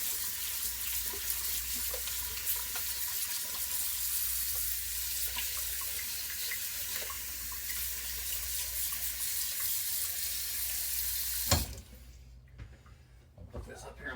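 Cold tap water running into a pot of cut potatoes in a home kitchen, a loud steady hiss and splash that shuts off abruptly near the end, leaving quieter room sound.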